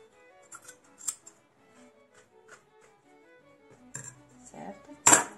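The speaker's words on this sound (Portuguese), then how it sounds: "Pega uma tesoura e corta os excessos" Scissors trimming excess fabric strips on a sewn mug rug, a few soft metallic snips and clicks spaced apart, ending with a louder rustle and snip.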